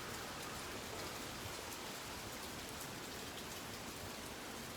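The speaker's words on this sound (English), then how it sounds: "we just have a little bit of rain, a little bit of wind" Rain falls during Hurricane Dorian as a steady, even patter on surfaces, soft and constant with no voices.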